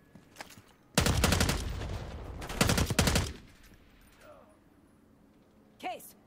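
Two loud, close bursts of automatic gunfire from enemy soldiers in the Black Ops 6 campaign, separated by a short pause, then quieter ambience and a brief whooshing effect.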